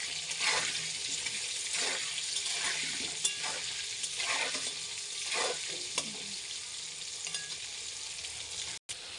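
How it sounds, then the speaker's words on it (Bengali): Potatoes frying in hot oil with salt and turmeric for a chicken curry, a constant soft sizzle broken by repeated scraping strokes of a spatula stirring the pan. "আলুগুলো লাল করে ভেজে উঠো"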